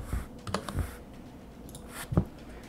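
A computer keyboard being typed on, a few scattered clicky key presses and thumps, close and moderately loud against a quiet background.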